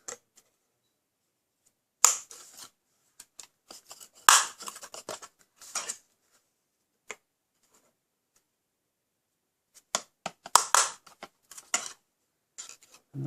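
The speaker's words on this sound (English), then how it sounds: "the 1/16 of a hole pin punch, and punch them holes out" A small 1/16-inch pin punch knocks holes through Stampin' Up cardstock for Christmas tree ornaments, giving sharp isolated taps and short clustered bursts of clicks separated by quiet gaps.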